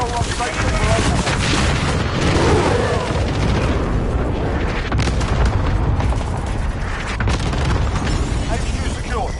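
A Call of Duty Modern Warfare airstrike pounds the area with a dense, continuous roar of overlapping explosions and booms, loud and close throughout, with game radio chatter mixed in.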